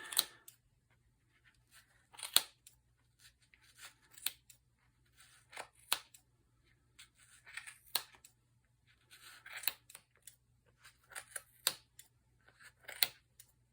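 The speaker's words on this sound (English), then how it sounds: "a really sharp pair of scissors is very helpful, because you're cutting through" Sharp scissors snipping through thick layers of yarn for a pompom in a steady series of crisp cuts, close up and quiet, with short pauses between strokes and no talking.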